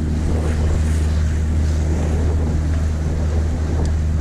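Sailboat motoring at about ten knots through a strong tidal current, with a steady low engine drone under continuous wind and rushing water noise.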